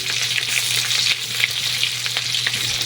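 Onion, garlic and ginger sauté in a hot oiled pan for a Filipino tilapia ginataan, giving a steady close sizzle and crackle with occasional stirring scrapes and no talk.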